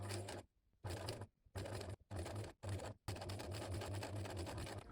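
A sewing machine stitching through bulky sweater fabric, running in short bursts separated by brief pauses, then a longer continuous run, its motor hum and needle chatter close and clear.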